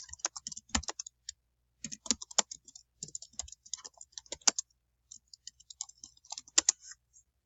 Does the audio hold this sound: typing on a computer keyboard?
yes